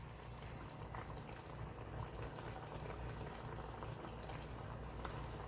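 Honey glaze sauce simmering in a pan, a faint, steady bubbling with small pops carrying on evenly throughout, quiet and close with no voices.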